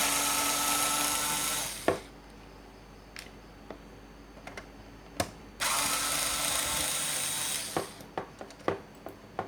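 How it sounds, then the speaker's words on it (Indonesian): A cordless screwdriver drives screws into a power distribution unit, giving two long, loud whirring runs with a pause between them, followed by scattered sharp clicks and knocks. "dengan obeng cordless saja masih butuh waktu ya. Tapi ini jauh lebih cepat ketimbang pakai obeng tangan."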